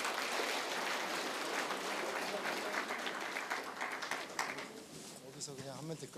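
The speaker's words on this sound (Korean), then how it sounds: "힘찬 박수로 맞이해 주시기 바랍니다" Steady applause from a Seoul city party chapter's members' debate forum audience, dense and sustained, thinning slightly near the end as a voice begins.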